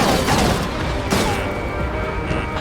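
Rapid gunfire and explosive bursts from an aerial battle against a laser cannon in the Ace Combat 7 video game, a dense, loud barrage with a sharp boom around the middle, filling the whole stretch.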